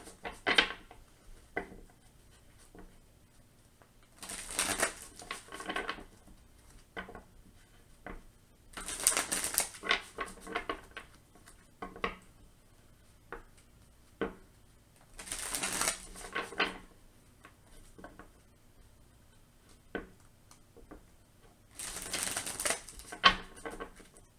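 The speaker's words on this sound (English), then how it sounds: "we'll get a couple shuffles here" Tarot deck shuffled in several bursts of papery riffling and flicking, each lasting a second or two with quiet gaps and soft taps between, close and moderately quiet with no talking.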